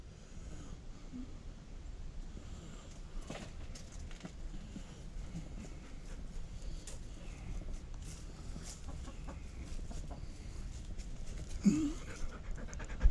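A dog pants steadily and rhythmically close by in a backyard, while backyard chickens cluck briefly near the end.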